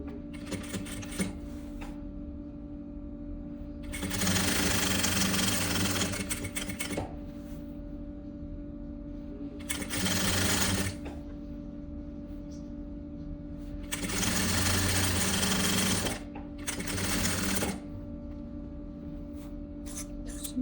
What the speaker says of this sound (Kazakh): толықтай 1 см тігіспен қосып тігіп шығамыз